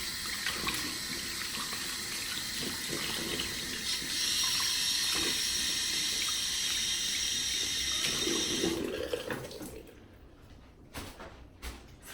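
A poly hairpiece is dunked and swished in running tap water at a sink, a steady close splashing wash that fades out near the end.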